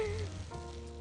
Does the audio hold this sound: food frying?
yes